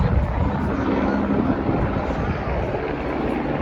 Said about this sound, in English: Oh, 2 helicopters.